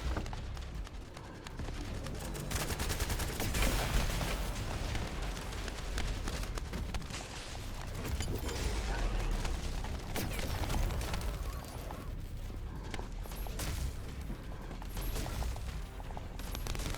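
Dense gunfire in The First Descendant, rapid shots and impacts layered over game music and effects, a busy sustained barrage at moderate level with no clear pauses.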